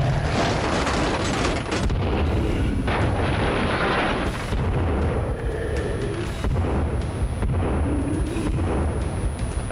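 Grenade blasts in Sons of the Forest go off as loud, rumbling booms in close succession, sustained bursts of explosive noise with a crackling, heavy tail throughout.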